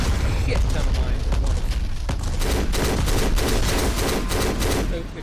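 In the video game Black, explosions and heavy gunfire erupt, with dense, loud rapid bursts and booming blasts continuing throughout, a player's voice talking over the action.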